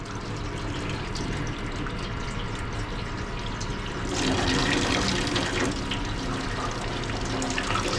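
Heavy flow of water pouring and splashing out of a waterlogged LG Multi V air handler as it is tipped down, a steady wet rush that swells louder midway.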